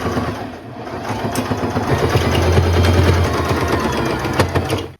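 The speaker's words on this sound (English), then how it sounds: "I'm gonna go over this first with my standard sewing machine" A standard sewing machine runs steadily, stitching a patchwork maxi skirt, its needle in a fast, even mechanical rhythm, close and fairly loud with no talking.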